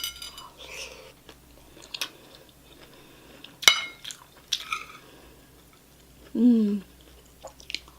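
Chewing a bite of shrimp and broccoli stir-fry with rice, soft close-up mouth sounds and a few cutlery clinks, with a brief murmur of appreciation partway through.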